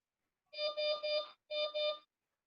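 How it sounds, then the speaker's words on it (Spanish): An electronic alarm rings in the background with a bright, pulsing beep pattern, three quick bursts, a short gap, then two more, with no talk over it. "estoy escuchando una alarma de fondo"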